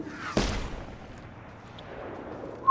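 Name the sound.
gunfire in a video game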